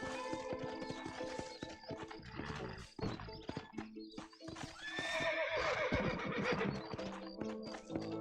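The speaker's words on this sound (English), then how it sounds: "Horses are over here!" Horses in Red Dead Redemption neighing and whinnying loudly several times, with hoof clatter and shuffling around them, close and busy.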